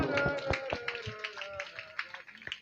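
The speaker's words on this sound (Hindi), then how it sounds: "एक बार माता के लिए ताली बजाते हैं सब लोग" Clapping from a crowd at a Hindu devotional jagran, sharp irregular claps scattered over a couple of seconds, mixed with tonal sound and faint voices in the background.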